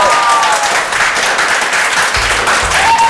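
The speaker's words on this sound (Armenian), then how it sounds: "ծափարություն է։" An audience applauds at a televised quiz show, steady clapping filling the short stretch from start to finish, close and fairly loud.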